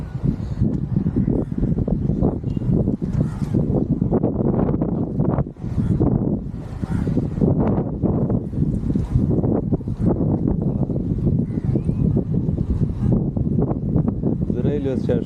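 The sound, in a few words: strong wind at an abandoned railway station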